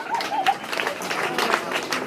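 A youth gathering breaks into applause, a modest spread of clapping from a small crowd with voices murmuring underneath, steady and fairly close.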